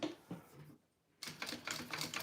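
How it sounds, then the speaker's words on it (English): A sewing machine stitching the second side of a fabric pouch, a fast clattering needle run that pauses briefly and then resumes, close and fairly quiet. "I'm gonna sew on the second side here"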